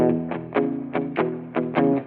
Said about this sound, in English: today I'm going to show you how to take a basic blues that sounds something like this